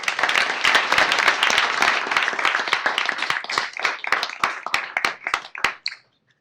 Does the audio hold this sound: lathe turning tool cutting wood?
no